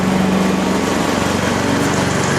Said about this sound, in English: Mama out running the lawnmower